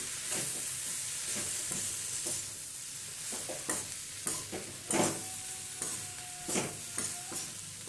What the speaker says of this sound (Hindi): एक छोटी चम्मच सौंफ का पाउडर। सबको अच्छे से मिक्स करेंगे।